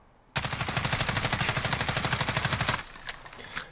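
An HK G36C rifle fires one long sustained automatic burst in Call of Duty Modern Warfare, a loud, rapid, evenly spaced stream of shots lasting over two seconds before it stops, leaving brief clatter and echo.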